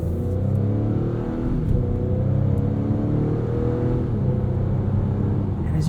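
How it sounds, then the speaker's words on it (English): Steady, loud cabin drone and rumble from a 2021 Acura TLX Advance SH-AWD with a 2-liter four-cylinder turbo engine, pulling continuously under load with no voices. "you can hear, there's kind of a unique sound from that 2-liter turbo"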